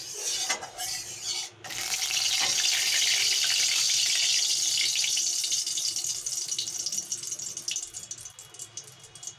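Tangra fish hit hot oil in a pan and sizzle loudly, with a few clinks and splashes as they go in, then a continuous hiss that slowly eases.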